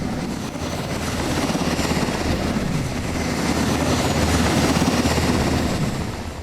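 Dramatized Black Hawk helicopter roar over a capital city at night, a continuous loud rotor and engine rumble that swells slightly toward the end.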